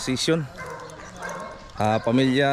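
Dogs barking and yipping at a K-9 unit during a socialization session, sharp close barks at the start and end with whimpering between, while people talk.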